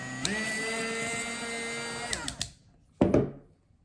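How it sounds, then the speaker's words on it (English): A power drill drilling hard plastic whines steadily at high pitch, spins down and stops, then a short burst of drilling follows after a brief pause. "Let's keep drilling."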